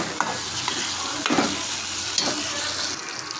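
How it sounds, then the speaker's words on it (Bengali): Spices for a soya chunk dish fry on high flame with a continuous close sizzle, broken by a few scraping stirs of the spoon against the pan. "হাই ফ্লেমে আমি মশলাগুলো ভুনে নিচ্ছি।"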